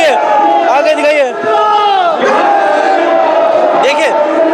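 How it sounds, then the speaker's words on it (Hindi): A large crowd of supporters at an outdoor political gathering shouts and chants together, loud and close, with voices rising and falling in swells of cheering and slogan calls throughout. "मोनू के समर्थन में इतनी भीड़ आई हुई है"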